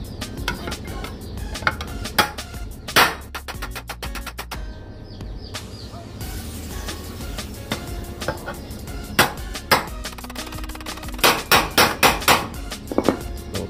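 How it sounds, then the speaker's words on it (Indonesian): A steel trowel handle rivet is hammered flat with sharp metallic strikes close up, some single and some in quick rapid bursts, ringing loudly across the whole stretch without talk. "Bagian belakang juga kita pukul supaya lebih rata dengan apa ini, besi dan platnya ya"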